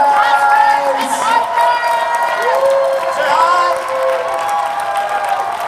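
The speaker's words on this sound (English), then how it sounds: "Give one more big round of applause." A convention panel audience claps and cheers steadily for the actors on stage, with whoops and shouts layered over dense, sustained applause throughout.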